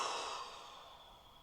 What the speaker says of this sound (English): Last breath in.